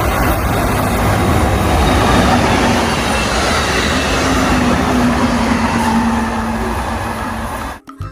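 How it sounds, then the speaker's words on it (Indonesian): A toy high-speed train runs with a steady, loud rattling rumble and clattering wheels for about eight seconds, cutting off abruptly near the end. "Wow, lihat di sini ada kereta cepat."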